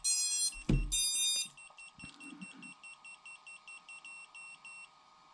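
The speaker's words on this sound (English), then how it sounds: "you want to cover this stupid beeper" Shrill electronic beeping from a FlyWoo Hexplorer drone's flight controller beeper, a loud continuous tone at first, then a steady train of short regular beeps continuing alone, with a brief clunk early on.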